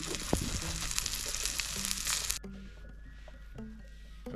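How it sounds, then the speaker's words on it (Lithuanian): Onions sizzling in butter over an outdoor campfire, a loud bright fry for a couple of seconds that then drops to a quieter crackle with a few light knocks. "svogūnus pakepinsim ant sviesto"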